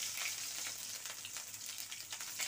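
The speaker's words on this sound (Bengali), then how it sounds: "এর মধ্যে পরিমাণ মতো কিছুটা তেল দিয়ে নিয়েছিলাম। তার মধ্যে হাফ চামচেরও কম হবে আদা রসুন বাটা দিয়ে নিলাম।" Ginger-garlic paste fries in hot oil in a wok with a soft, steady sizzle and faint crackles.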